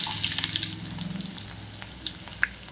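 Garlic frying in a pan with cabbage, a steady close sizzle with crackling pops and a few light stirring scrapes.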